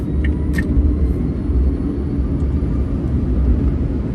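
Electra Meccanica SOLO electric car driving through city traffic at a 50 speed limit, a steady loud low road rumble and tyre noise continuing throughout with no talking.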